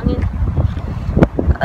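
Gusty wind buffets the microphone outdoors in low rumbling bursts, mixed with people talking close by.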